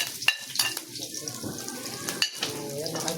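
Garlic and ginger sizzle in a hot pan, a steady frying hiss with sharp clinks of a utensil against the pan near the start and later, with faint voices in the background.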